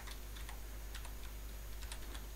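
Typing on a computer keyboard gives soft, irregular key clicks at a steady moderate pace over a faint constant low hum, with no voices.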